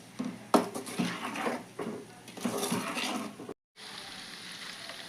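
Fried eggs lifted out of hot oil in a pan while cooking a prawn and egg curry, with close metal scrapes and clinks over a steady sizzle, then a brief drop to quiet before the frying hiss resumes.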